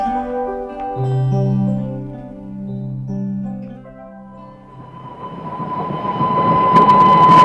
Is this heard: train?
yes